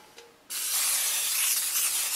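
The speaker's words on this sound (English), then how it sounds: "Spray the bottom of your pan." Butter-flavored cooking spray hisses out of the can onto the bottom of a Dutch oven pan in one sustained, close burst after a brief click.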